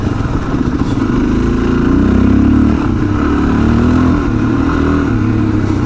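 A dual sport motorcycle runs along back-country hill trails near Oak Grove Campground east of Temecula, its engine a loud, steady close-up drone that swells and eases slightly with throttle.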